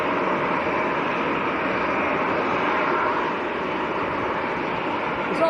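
An EasyJet airliner's jet engines roar at Manchester Airport, a loud, steady broadband rumble that fills the whole stretch without letup.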